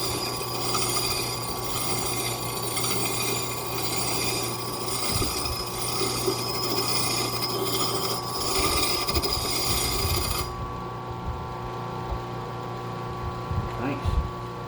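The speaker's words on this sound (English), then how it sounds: "You can hear the difference. This is the shiv on the pulley that is not used." A spare, unused pulley sheave spinning freely on a machine, giving a steady mechanical whir with a constant hum that runs unbroken for about ten seconds, then drops to a quieter, duller hum.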